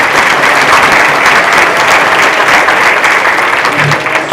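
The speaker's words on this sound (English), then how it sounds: "I think that they really deserve a big applause from all of us" Sustained applause from a seated audience at an education panel event, steady and dense throughout with no talk over it.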